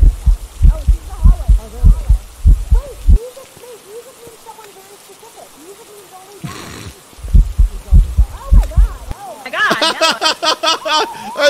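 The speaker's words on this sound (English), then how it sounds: "Oh, I hear heartbeats." Heartbeat thumps in Phasmophobia, heavy low pulses in runs at the start and middle, separated by a quieter stretch, with eerie tones and a burst of brighter rattling noise near the end.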